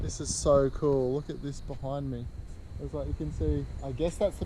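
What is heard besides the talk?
No everyday noise stands out behind the speech.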